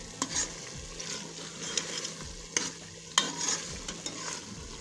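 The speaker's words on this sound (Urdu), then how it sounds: "مسلسل چمچہ ہلاتے جائیں گے تاکہ ہمارا مسالہ نیچے نہ لگے" Spoon stirring spiced mashed turnip and peas masala frying in a pan, a continuous sizzle broken by scraping clinks of the spoon against the pan, close and moderately quiet with no talking.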